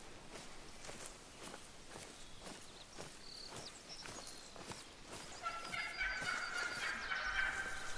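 Wild turkeys gobble in theHunter: Call of the Wild as footsteps crunch steadily along a trail, and a bright, rapid gobbling burst rises toward the end, moderately distant over the quiet outdoor background.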